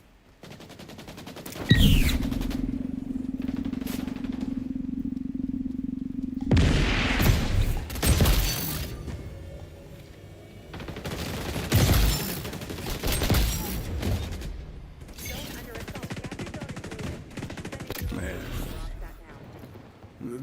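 An M870 shotgun fires in the online shooter XDefiant: loud, punchy blasts in uneven bursts separated by pauses, with a player talking between shots.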